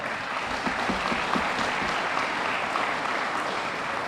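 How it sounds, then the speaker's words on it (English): Audience applause at a police department's annual awards banquet, a steady, even wash of many hands clapping that holds for the full stretch. "Let's give her a round of applause."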